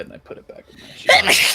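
A person sneezes once, loud and close, right after a short stretch of speech.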